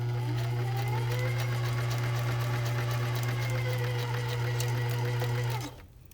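A sewing machine runs steadily while stitching a pocket together, a close, continuous whirring hum with fine rapid needle ticks that passes over a pin, then winds down and stops near the end.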